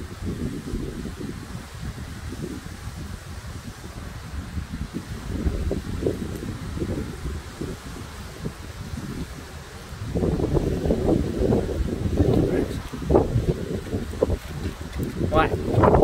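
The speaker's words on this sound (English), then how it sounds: "Look at this wind." Strong gusty wind during a severe summer thunderstorm windstorm in Chestermere, Alberta, roars and buffets the microphone in heavy low rumbling waves that intensify partway through and stay loud to the end.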